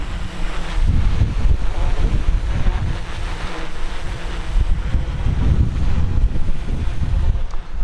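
Strong 40 mph wind buffets an open microphone outdoors, a continuous loud rumbling roar with surging gusts throughout and no voices.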